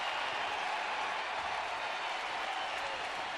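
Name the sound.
baseball sellout crowd rising to its feet, cheering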